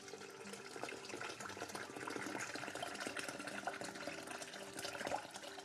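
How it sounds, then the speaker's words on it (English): Two liters of water pouring into a NutraMilk machine over two cups of nuts, a continuous splashing, gurgling fill that stays close and even throughout with no talking. "Now I'm going to add 2 liters of water to the 2 cups of nuts that we had in there."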